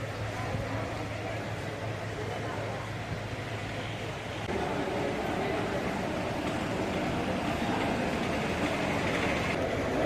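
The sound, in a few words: Ernakulam–Bengaluru Intercity train arriving at Palakkad Junction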